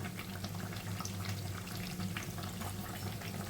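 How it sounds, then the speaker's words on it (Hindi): Bread potato pakodas fry in hot oil, giving a soft, continuous crackling sizzle with no talk over it. "इस तरह से हमें दूसरी तरफ भी फ्राई कर लेना है।"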